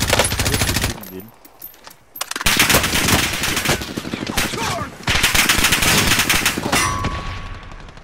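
Rapid bursts of automatic gunfire in a video game, close and loud, one long volley, a short lull, then more sustained firing, with players talking over it.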